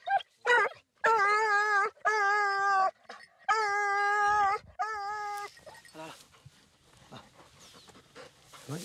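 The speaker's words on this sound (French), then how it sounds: "Il rentre là, les amis. C'est un chien." A hunting dog on a wild boar hunt gives a series of high, drawn-out whining whimpers in short bursts, close by, followed by fainter rustling and scattered noises.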